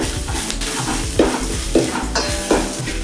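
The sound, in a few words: green chillies and turmeric frying in pan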